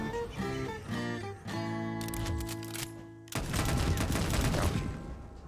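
Grenade attack in the Puzzle Combat mobile game, heard as a dense burst of game explosions and gunfire with sustained rumbling blasts and crackling, loud and continuous, overlaid on tonal game music.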